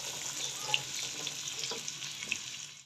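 Carrots and peas fry in a pan with a loud, steady, continuous sizzle and no voices over it.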